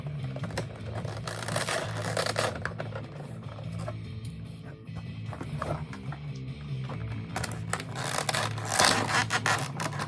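Iron Man Mark 2 toy packaging is unwrapped, with soft plastic and cardboard rustling, rubbing and crinkling in close, irregular bursts throughout.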